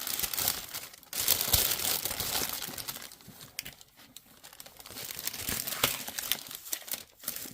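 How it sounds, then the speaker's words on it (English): Wax paper crinkling and rustling on a craft work area, continuous close crackling with brief pauses and louder bursts as the sheet is handled. "if this wax paper keeps doing this, guess what? Forgive me, we're getting rid of the wax paper."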